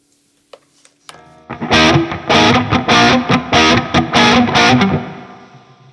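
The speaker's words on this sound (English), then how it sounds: "First we have the reverb." Distorted electric guitar through a vintage-modern EVH-style amp preset with reverb engaged: a few muted picks, then loud, ringing power chords struck in a rhythmic pattern, with a reverb tail trailing off at the end.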